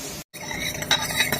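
Tadka tempering being stirred into a pot of bottle gourd dal, a short burst of sizzle with metal spoon scraping and clinking against the pot.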